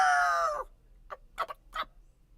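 A rooster crows once, loud and close, with a harmonic call that falls away after about half a second, followed by a few soft scattered bursts of clucking and noise.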